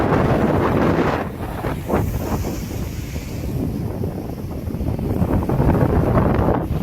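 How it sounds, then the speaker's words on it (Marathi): Sea waves surge and wash ashore in a continuous loud roar while wind buffets the microphone on a rainy day at the coast, with no voices. "पाऊस ये जा करतो आहे त्याच्यामुळे समुद्राच्या लाटासुद्धा थोड्या हलक्या आहेत"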